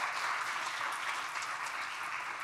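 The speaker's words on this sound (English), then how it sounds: "Give them a big round of applause as well," Dense, steady audience applause fills a hall at the Ignite the Mic 2019 spoken-word event, holding at an even level throughout without a break.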